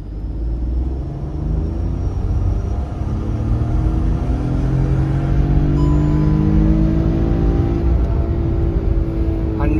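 A Hyundai Venue turbo accelerates hard in second gear, engine note rising steadily in pitch as revs climb, loud and close from inside the cabin.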